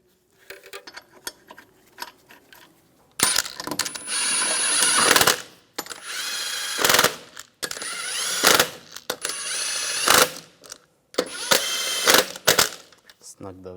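Wheel bolts being run down on a 2004-2009 Toyota Prius with a ratcheting tool, several bursts of loud rapid clicking separated by short pauses, close by, with someone talking briefly.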